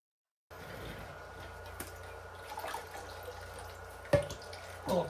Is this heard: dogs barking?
no